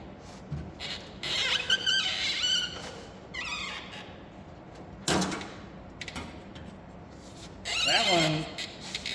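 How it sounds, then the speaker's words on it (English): A squeaky chair creaks in a garage workshop, giving several sharp high squeals and groans in separate bursts, fairly near and moderately loud against a quiet background. "that chair's squeaky"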